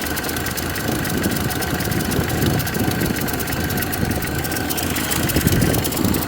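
The engine of an old 1929 Ford AA tow truck idles with a steady low rumble and a rapid, even chugging vibration, close and continuous with no talking.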